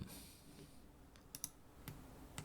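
Sparse keystrokes on a computer keyboard, a few isolated sharp clicks spaced irregularly over a quiet background, faint and close.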